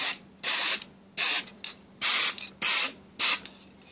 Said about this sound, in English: Right now I'm going to spray the speaker and the mic.